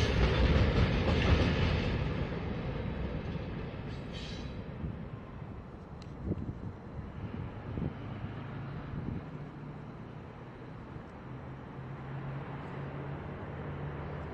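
A CN freight train hauling gray hopper cars rolls past outdoors, loudest at first, then a steady rumble with clickety-clack wheel beats and wind buffeting the microphone, no talk.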